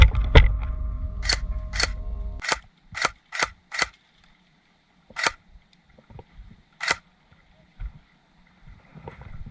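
Airsoft UMP fired in bursts of sharp, snappy shots at an abandoned-town field, a cluster of about ten crisp pops spread unevenly over several seconds, with rumbling handling noise at the start.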